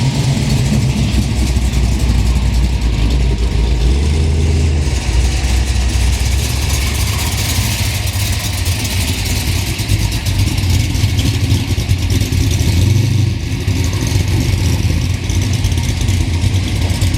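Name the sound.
classic car engine idling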